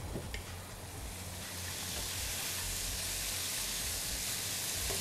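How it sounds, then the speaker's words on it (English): Steady, hissing sizzle of chicken breast frying in a hot pan, continuous and fairly close, with no talking. "Right, just keep frying."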